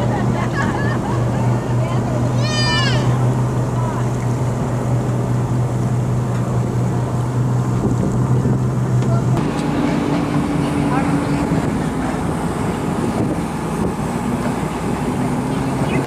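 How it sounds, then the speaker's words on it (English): Steady low engine drone of a ferry running to downtown San Diego from Coronado, with wind and water noise throughout; the engine tone shifts pitch partway through, and a brief chirp like a bird call stands out early on. "right now I'm on the ferry, taking the ferry to downtown San Diego"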